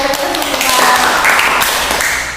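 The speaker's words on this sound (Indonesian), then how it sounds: "Sukses, tepuk tangan ya." A small group in a school counseling class claps hands briefly in a dense burst, close and fairly loud, with voices mixed in among the claps.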